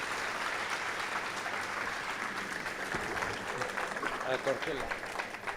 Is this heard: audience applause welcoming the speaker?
yes